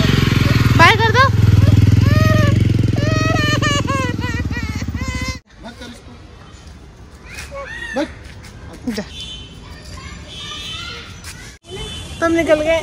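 A motorcycle engine runs loudly at idle for several seconds, then cuts off abruptly, while children and adults talk over it throughout.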